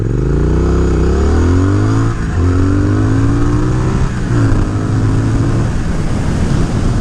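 Triumph Speed Twin motorcycle with a TuneECU tune accelerating through the gears, engine note rising in pitch then dropping at each of several shifts, loud and close, with no talking.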